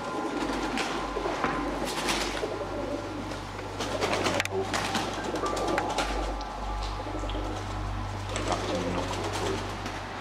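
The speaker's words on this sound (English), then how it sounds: "Is there a pigeon in there?" Pigeon cooing inside an abandoned building, soft repeated coos over a steady low background rumble, with faint scattered chirps throughout.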